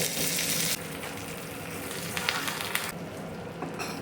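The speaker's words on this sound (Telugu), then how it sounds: "ఆవాలు వేసుకున్నాము ఎండుమిర్చి కాస్త జీలకర్ర పచ్చిమిర్చి వేస్తున్నాము" Mustard seeds, dried red chillies, cumin and green chillies crackle and sizzle in hot oil in a pan, a steady close hiss that drops slightly after the first moment, with a few sharp pops and spits.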